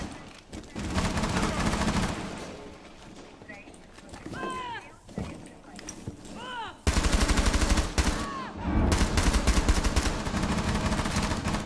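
Gunfire in the tactical shooter Rainbow Six Siege, loud bursts of rapid shots that stop briefly and then return heavier in dense automatic volleys, with voices talking over the fight.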